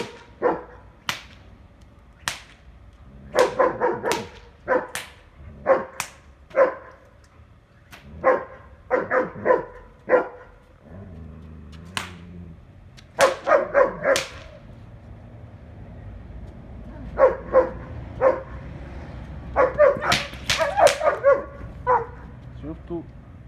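A guard dog barks during training, sharp loud barks in irregular bursts and clusters, close by, with someone speaking at times between them.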